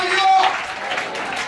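Congregation applause in a church service, a burst of clapping that overlaps a voice and then fades into lighter scattered claps.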